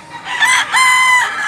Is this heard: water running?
no